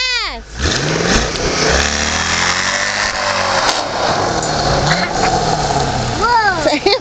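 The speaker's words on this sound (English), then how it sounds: "Watch, Papa's gonna burn his tires." A car engine revs hard and holds high while the tires burn out in a driveway, a loud continuous roar with squealing rubber and shifting pitch, with family voices and whoops breaking in at the start and end.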